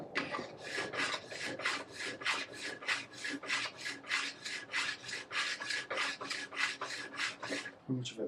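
A hand tool rasps along the sidewall of a ski, stripping it off in fast, even back-and-forth strokes, about twenty rhythmic scrapes close to the microphone.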